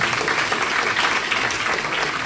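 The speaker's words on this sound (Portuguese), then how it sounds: "Você pode dar um forte aplauso ao seu planeador visitante?" Strong, steady applause from a church congregation during a Sunday family service at a Baptist church, dense and continuous throughout with no gaps.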